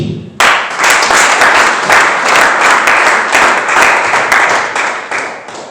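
A church congregation bursts into loud, sustained applause after a brief lull, many hands clapping together in a dense, slightly uneven rhythm that fades near the end.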